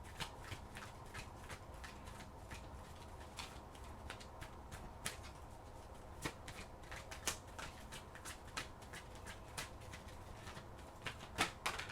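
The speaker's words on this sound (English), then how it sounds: "Let's go ahead and get your last oracle card here." Oracle cards shuffled during a tarot-style reading, giving a steady run of soft papery riffles and sharp flicks across the whole stretch, close and fairly quiet with no talking.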